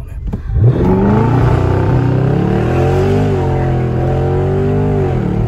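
A Dodge Charger Scat Pack launches hard from a standstill on launch control, its engine surging into a loud, sustained, rising roar close by as it accelerates away, with no talk over it.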